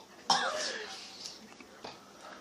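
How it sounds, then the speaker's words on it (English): A person coughs after chewing a hard vitamin C pill, a sharp close cough followed by a drawn-out raspy throaty sound and a smaller second catch, with faint voices around it. "It made me want to cough too."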